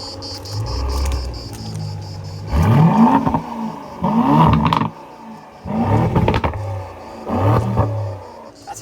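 An Aston Martin DB12 with its exhaust valves opened in Sport mode, parked in Monaco, revs up four times in quick succession. Each rise climbs sharply and drops away, loud and close, with a steady idle rumble between.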